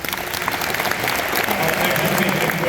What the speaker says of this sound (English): And clap for these people